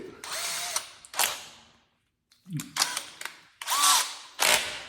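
Power drill fitted with a drill bit during installation of a bi-fold closet door, several short whirring bursts separated by pauses, close and fairly loud.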